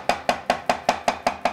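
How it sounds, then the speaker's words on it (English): A knife chops mushrooms and onion on a cutting board, eight crisp even strokes about every fifth of a second, close and clear with no voices. "we can chop up some mushrooms and some onion"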